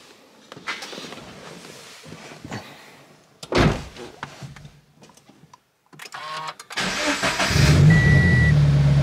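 A Scion FR-S heading up Pikes Peak early in the morning: a car door shuts with a solid slam, shuffling and clicks follow, then the engine cranks and catches into a loud, steady idle.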